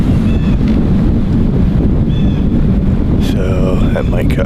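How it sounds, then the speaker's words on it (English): Outdoors on a November morning archery hunt, wind rises into a loud, steady roar that buffets the microphone. A faint voice may be heard briefly near the end. "the wind's starting to pick up."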